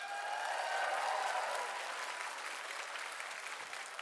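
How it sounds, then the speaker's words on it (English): A large crowd at Summer of Sonic 2016 giving a round of applause to the cosplay contest finalists, a dense continuous wash of clapping with a faint distant roar, steady and sustained throughout. "could I get a big round of applause for my cosplay finalists?"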